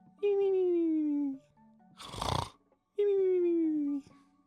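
A voice imitates snoring: two long, drawn-out nasal snore sounds separated by a breathy snort-like exhale, close and fairly loud.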